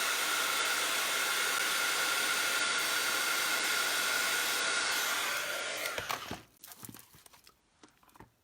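A dryer blows steadily and loudly across shimmer spray on gesso for about six seconds, then cuts off, leaving a few faint handling noises.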